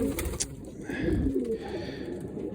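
Breeding pigeons in a loft give a steady, low murmuring coo that runs continuously through the moment, with faint higher chirps near the start.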